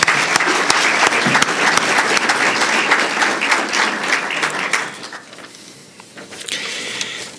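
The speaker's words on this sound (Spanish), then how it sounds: "pido un gran aplauso de reconocimiento" A conference audience breaks into sustained applause, dense and loud for several seconds, then thins and dips before a smaller burst of clapping near the end.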